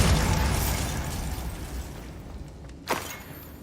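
Spell blasts in Hogwarts Legacy rumble through a dense, roaring burst that fades gradually, followed by one sharp crack near the end, with no talking.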